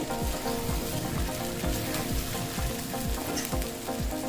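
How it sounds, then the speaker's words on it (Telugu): Chicken pepper fry sizzling loudly in hot oil in a pan, a dense, continuous crackle with rhythmic stirring strokes about twice a second, close and with no voices. "ఇంకా ఇప్పుడు మన చికెన్ ఫ్రై అయిపోయింది."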